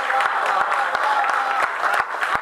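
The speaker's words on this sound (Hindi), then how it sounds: "तालियां कमजोर है आपकी।" An audience at a Hindi poetry recital gives thin, scattered applause, a steady crowd clatter with sharper individual claps standing out throughout.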